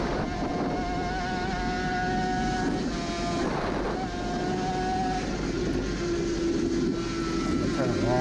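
Suzuki RG500 two-stroke racing motorcycle heard onboard during a road race: a loud, continuous, high-pitched engine wail with rising and falling revs and gear changes, under steady wind roar, while a rider's commentary runs over it.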